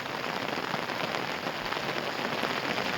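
Steady rain falls over a village at the foot of Shivneri fort, a dense, even hiss of drops pattering on surfaces nearby without a break.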